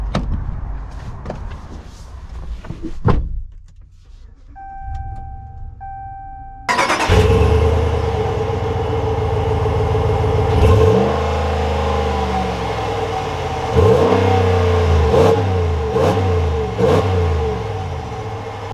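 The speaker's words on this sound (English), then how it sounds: "Let's take this truck out and see how it drives" After quiet creaks and a door clunk, a 2021 Ram 1500 Rebel Night Edition pickup truck engine cranks and starts, then revs repeatedly and pulls away with rising and falling engine surges.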